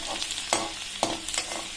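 Chopped garlic frying in hot oil for a chilli potato appetizer, a steady close sizzle broken by a few sharp clinks of stirring.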